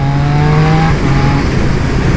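A Triumph Speed Triple 1200 RS motorcycle pulls in third gear at about 40 km/h, its engine a loud, close, droning note that judders slightly and shifts in pitch partway through, with no talking.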